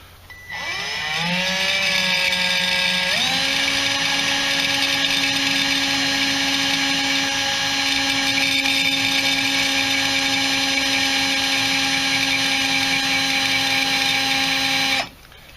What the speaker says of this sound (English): I'm going to go on slow speed, and I'm again using a 1/2 inch drill bit